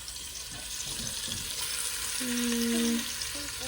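Beef short ribs fry in oil in a pan with a steady close sizzle and crackle. A brief tonal squeal rises over it near the end, and a voice speaks a single word.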